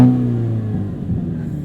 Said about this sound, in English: let's listen to that exhaust